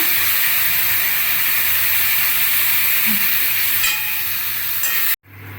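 Water poured into hot oil while cooking morola fish, a loud, continuous sizzling hiss close up that runs steadily, then cuts off abruptly near the end.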